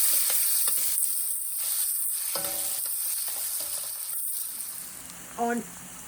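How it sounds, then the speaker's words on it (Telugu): Chopped onions fry in a pan with a constant hiss and crackle, while spatula scrapes and a few metallic clinks and taps sound nearby. "ఇది ఫ్రై అయిన తర్వాత కట్ చేసుకున్న ఆనియన్స్ వేసుకొని ఫ్రై చేసుకోవాలి."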